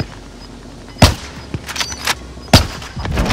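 Call of Duty Warzone gunfire: two sharp, loud gunshots spaced about a second and a half apart, each followed by scattered echoing cracks and thumps from nearby fire.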